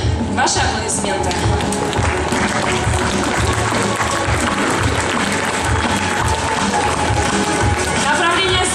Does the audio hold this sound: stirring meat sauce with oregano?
no